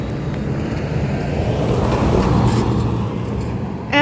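A single car rolls past on a street in Bisbee, its engine and tyre rumble swelling toward the middle and fading, fairly close and loud, with no one talking.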